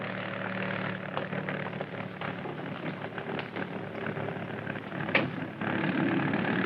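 A propeller aircraft engine droning steadily just after the plane takes off, a continuous moderate hum with small fluctuations and no talk.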